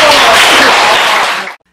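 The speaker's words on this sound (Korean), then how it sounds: "일단 잘 들었습니다. 박수!" Brief classroom clapping in a middle school lesson after a student presentation, loud and close, fading out abruptly after about a second and a half.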